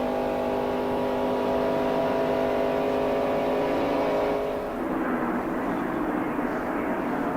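Stock cars at the 1993 Daytona 500 race past: a sustained, loud engine drone holds steady, then shifts and fades as the leaders sweep by.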